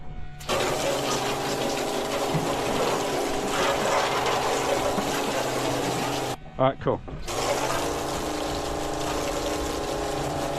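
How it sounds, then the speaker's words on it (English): A boat's bilge pump runs as a loud, steady mechanical whir with water rushing, cutting out briefly and then restarting, while people talk nearby. "we'll let the bilge pump go for another second or so"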